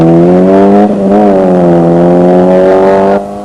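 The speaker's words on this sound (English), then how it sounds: "the Peugeot of Alan Hooper, locking up, crossing up, and tight" Peugeot rally car on a snowy rally stage, engine revving hard and loud close by, a strong steady roar with a brief dip as it shifts before climbing again.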